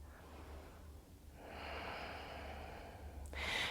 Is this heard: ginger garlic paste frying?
no